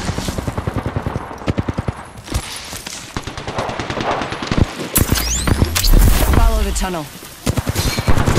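Rapid gunfire in a sci-fi shooter game, sharp evenly spaced shots in quick bursts with heavier booms and zipping effects later, while a voice speaks briefly over the action.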